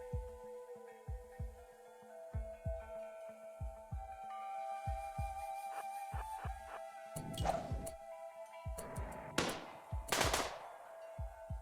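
Rapid bursts of gunfire from the strategy game RimWorld, a steady run of thumping shots over a droning background hum, building to louder crackling blasts near the end.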